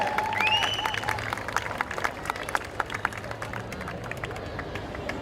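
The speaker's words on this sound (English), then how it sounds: "Can you keep clapping, please?" Audience clapping at a youth week band event, a thin scattered patter of hands in a large space at moderate distance, with a brief whistle-like tone near the start and background murmur throughout.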